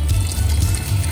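Water pours steadily into a pot of deer stew, a continuous close rushing splash with no pauses, about a cup's worth going in.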